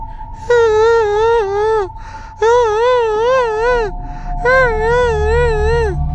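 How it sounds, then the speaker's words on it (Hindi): A woman's crying sound effect for a ghost story: three long, wavering, high wails, each about a second and a half with short gaps between, loud and close over a low background drone, with no talking. "शादी की पहली रात अर्जुन ने दरवाजे के पास किसी की रोने की आवाज सुनी।"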